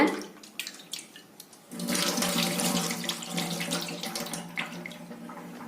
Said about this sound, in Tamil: இது அஞ்சு ஆறு தடவை தண்ணி விட்டு கழுவிக்கலாங்க